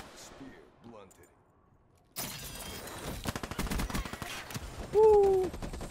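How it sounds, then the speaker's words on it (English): Rapid bursts from the Talon gun in Call of Duty Black Ops 3 follow a quiet opening with faint voices, the rattling automatic fire pulsing in quick, sustained volleys and ending in a louder burst. "Look at how long the Talon is shooting that guy"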